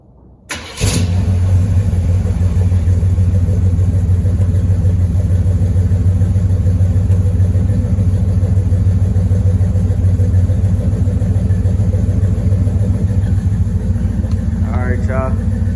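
A Monte Carlo's engine rumbles steadily at idle, close and loud, with a low, throbbing exhaust note that holds from start to finish after a brief click.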